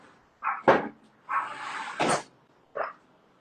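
Dogs bark in a few short, separate bursts, about four sharp barks spaced over a few seconds, fairly close and loud, with no talking.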